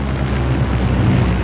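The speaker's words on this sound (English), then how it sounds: "First up is a medley of frontline helicopters from Apaches to Sea Kings and Chinooks" Military helicopters, Apaches, Sea Kings and Chinooks, passing overhead in a flypast at RAF Brize Norton: a loud, steady, dense rotor and engine roar filling the moment without a break.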